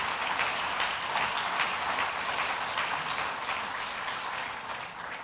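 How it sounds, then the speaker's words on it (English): Conference attendees at the TPO Network opening give a big round of applause, a dense, even roar of clapping from a large room, moderately loud and sustained for the whole stretch. "we want to give them a big applause for what they have done for us here"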